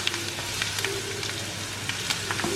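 Ginger garlic paste frying with onions, green chillies and curry leaves for mutton thoran, a steady close sizzle with light scraping and stirring taps, no talking.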